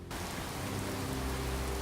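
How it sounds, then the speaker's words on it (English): Steady rain falling in a modded Fallout 4 game world, a dense continuous patter with a low rumble underneath, starting abruptly and holding at an even, moderate level. "Oh man, in the rain."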